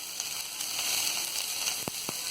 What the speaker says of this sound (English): Now in this we will add chopped onion